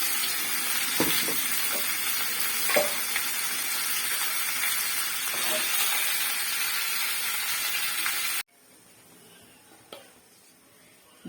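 Chicken gravy with ginger and garlic sautés in hot oil, a steady close sizzle with occasional stirring clatters, then the frying drops off sharply to a faint hiss with one more clink.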